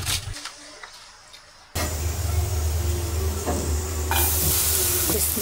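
After a quieter moment, beetroot starts frying loudly in a pan and is stirred, a steady close sizzle with scraping strokes that grows brighter near the end.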